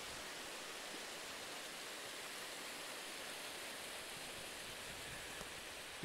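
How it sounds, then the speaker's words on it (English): A stream of mountain water flowing across a hiking trail makes a steady, even rushing and splashing hiss, faint and continuous with no talk over it. "What a beautiful water source."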